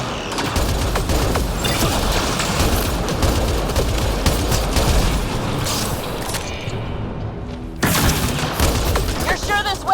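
Dense, continuous turret gunfire and booming impacts in a Mass Effect Andromeda battle, loud and sustained with a brief drop near the end, with voices talking underneath.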